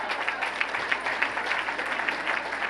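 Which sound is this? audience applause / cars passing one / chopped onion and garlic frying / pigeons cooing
audience applause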